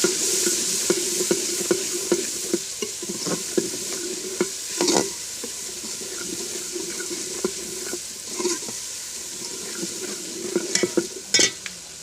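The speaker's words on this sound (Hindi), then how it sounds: "और थोड़ी सी हल्दी डालेंगे और इनको अच्छी तरह भून लेना है" Red chili powder and turmeric being fried in a pot for aloo matar curry, a steady sizzle under repeated scraping stirs of a spoon against metal, with a few sharper clanks near the end.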